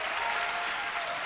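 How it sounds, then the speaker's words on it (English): Southeast of Saline home fans applaud at a 3A state boys basketball game, a steady wash of clapping from a crowd filling the gym, loud and continuous. "that'll get an applaud from the Southeast faithful here to support the Trojans"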